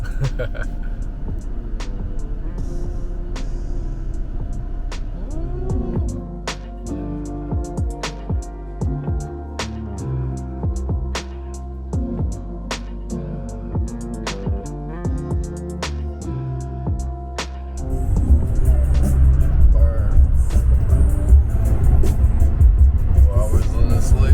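A car driving along a road at night gives a steady low engine and road rumble throughout, with repeated clicks and a louder rise in rumble near the end; talk is heard over it.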